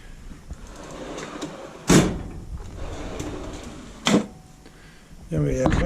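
A metal US General tool chest drawer slams shut twice, once early and once later, each a sharp loud clack, with quiet rummaging between and a voice speaking near the end.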